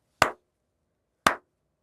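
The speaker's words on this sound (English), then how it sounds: "But it means that like if I clap," Two single hand claps, about a second apart, ring out sharply and then decay quickly in a small, deadened studio room that was once a storeroom.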